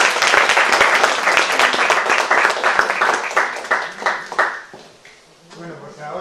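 A lecture audience in a hall breaks into dense, close applause of many hands that holds strong for several seconds and then thins to a few scattered claps before fading.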